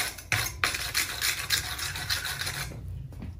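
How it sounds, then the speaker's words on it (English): A wire brush scrapes rapidly and harshly across a hot forged gun barrel at forge welding temperature, clearing old flux in a string of close, raspy strokes that fade out near the end. "Brush off the old flux."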